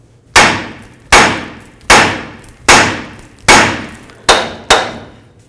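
A hammer strikes the tie rod end joint on a 1999-2007 Ford F250 seven times, loud metallic bangs at a steady pace with short ringing decays and a final quicker pair.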